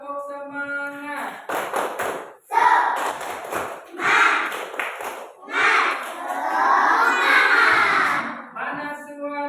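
Classroom children perform a rhythmic 'tepuk semangat' clapping chant, bursts of clapping and loud group shouting in an uneven pattern, with a teacher's voice at the start and end.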